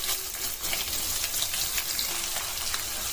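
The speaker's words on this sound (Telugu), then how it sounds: "ఆనియన్స్ మొత్తం బాగా ఫ్రై అవ్వాలి" Onions frying in oil with cumin seeds in a pan, giving a steady, close hiss of sizzling with faint crackles throughout and no talking.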